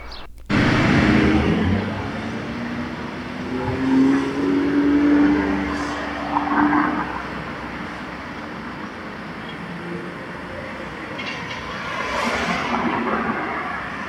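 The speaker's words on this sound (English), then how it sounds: "the cars are passing by" Cars pass on a busy downtown street in Durham on a workday morning, with engine swells rising and fading one after another over steady traffic hum.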